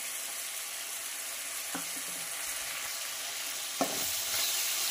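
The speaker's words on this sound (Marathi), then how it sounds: "आणि छानपैकी फ्राय करून घेऊया। आणि सांबार मसाला घालणार आहे।" Sambar masala frying in a pan with home-made red chilli powder, a steady low sizzle throughout with a couple of brief stirring scrapes.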